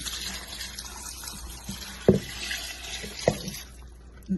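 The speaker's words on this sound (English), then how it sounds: "we're adding just enough water to cover the bottom of the pot" Water is poured into a pot to cover its bottom before rendering cubed pork fat into lard, a soft running trickle with a couple of sharp clinks of the pot.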